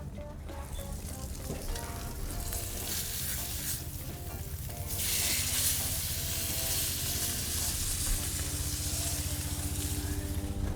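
Australian Wagyu New York steak sizzling hard in a cast iron pan, a dense, steady crackle that grows louder and brighter about halfway through, with no voices.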